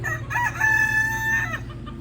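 A rooster in a mixed backyard flock lets out a loud, close crow lasting over a second, with hens clucking softly around it.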